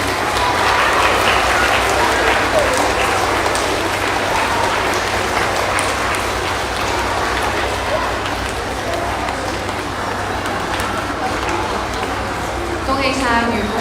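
A school audience at a primary school's 65th-anniversary thanksgiving ceremony applauds long-serving teachers, a dense, steady wash of clapping that fills the whole stretch at close range, with a voice speaking over it.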